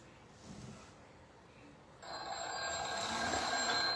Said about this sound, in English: The old-timey phone's ringing.